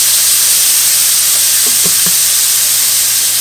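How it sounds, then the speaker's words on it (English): Shrimp frying in a pan for keto stuffed Cajun portabella mushrooms, a steady loud broadband sizzle throughout, with a few soft clinks of the shrimp being tossed near the middle. "In the same pan, now you want to toss in your shrimp and just let it cook until they turn pink."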